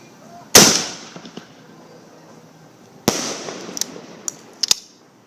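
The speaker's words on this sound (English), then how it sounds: "I still took the holiday as an opportunity to shoot fireworks out of my grenade launcher" Fireworks fired from a grenade launcher: a sharp, loud launch blast, a quiet gap, then a second bang followed by several scattered crackling pops, outdoors.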